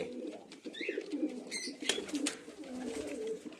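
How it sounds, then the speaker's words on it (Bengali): Kaldoma Giribaz pigeon in a breeding loft cooing nearby, soft low repeated coos over faint rustling and a few brief chirps. "বেশ ভালো পায়রাটা"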